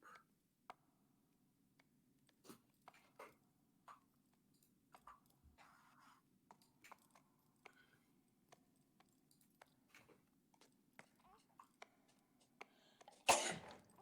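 A single sharp sneeze bursts out near the end, loud and close, after a quiet stretch of scattered clicks and small noises during a Shadow of the Colossus speedrun.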